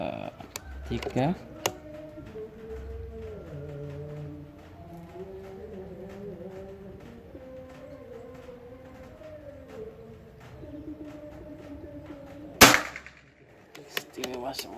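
A single sharp, loud PCP air rifle shot cracks near the end, over a steady warbling tonal background with a few faint clicks early on.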